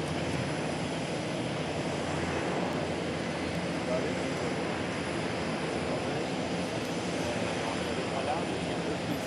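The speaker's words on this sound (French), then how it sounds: "now taking off the last born of a range of Falcons" A Dassault Falcon business jet takes off at the Paris Air Show at Le Bourget, producing a steady, loud broadband engine roar that holds evenly across the whole stretch, heard from a distance.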